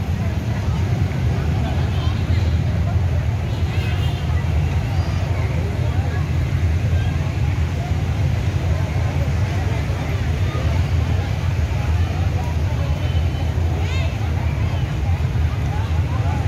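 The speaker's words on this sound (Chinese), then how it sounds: "全是摩托车" A busy street full of motorcycles on Nguyen Hue Street in Ho Chi Minh City during Christmas 2020 gives a constant low rumble of engines, blended with soft crowd murmur, steady and unbroken throughout.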